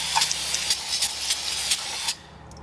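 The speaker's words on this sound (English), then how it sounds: "I'm going to hit this thing with the brake cleaner" Aerosol can of brake cleaner sprayed onto a part of a Western Ultramount Wide-Out snowplow, a close, loud, continuous hiss with small pulses that stops abruptly after about two seconds.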